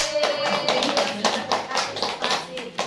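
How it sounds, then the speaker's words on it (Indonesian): A short burst of hand clapping from a small group of women at a stunting-prevention session, steady and fairly close, with some voices mixed in. "Tepuk tangan ya."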